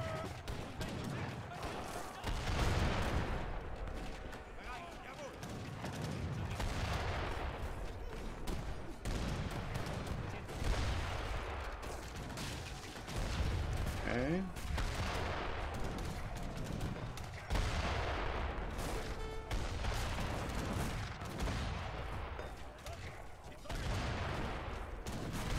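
Heavy cannon and gunfire in the real-time strategy game Age of Empires III, a 2v2 Treaty battle, with dense, continuous volleys and booming blasts throughout, and people talking over the din.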